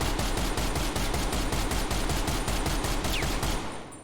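A DMR in Black Ops Cold War, fired with a rapid-fire mod, lets out a fast, even stream of loud gunshots that runs almost nonstop, then stops abruptly and trails off.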